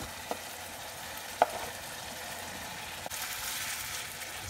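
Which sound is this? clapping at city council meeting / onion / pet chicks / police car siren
onion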